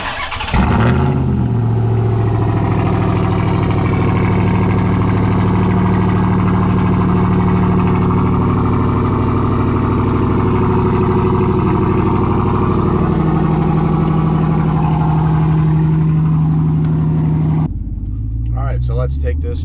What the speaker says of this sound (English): So let's do a cold start, or somewhat of a cold start.